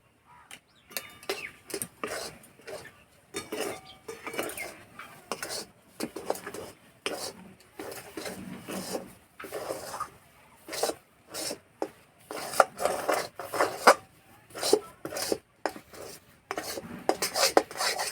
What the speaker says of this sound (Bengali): এইভাবে এবার তলা থেকে নাড়তে হবে নাহলে তলাতে লেগে যাবে